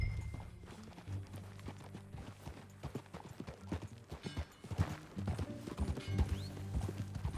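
Steady clip-clop of horse hooves walking at an even pace in the video game Red Dead Redemption 2, fairly faint, layered under background music.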